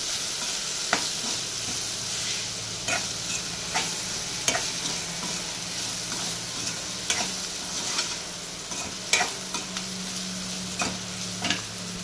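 Sliced bitter gourd fries in a pan with chili powder and coriander powder, a constant loud sizzle broken by regular scraping taps of a spoon stirring, close up and with no talking.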